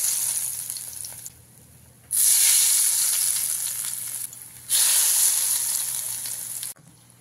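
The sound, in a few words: hot spiced oil poured over grated raw mango, sizzling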